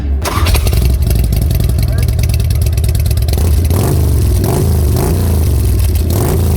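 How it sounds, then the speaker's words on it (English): A 2004 Harley-Davidson Road Glide with Reinhardt 4-inch pipes idles with a deep, rumbling exhaust, then revs up several times in quick bursts, loud and close. "I got a 2004 Harley Road Glide. I got Reinhardt 4-inch pipes."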